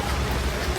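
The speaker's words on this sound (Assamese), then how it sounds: "চাও ইমান বৰষুণ পৰি আছে" Heavy rain pours steadily during a trip in Mizoram, a dense, even hiss of drops with no talk over it.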